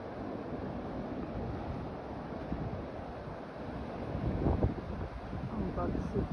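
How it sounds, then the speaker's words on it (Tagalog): Strong typhoon winds and heavy waves batter the coast of Samar in the morning, a steady loud roar of surf and wind noise that swells toward the end. "Ang bagsik ng alon as of 7 o'clock in the morning"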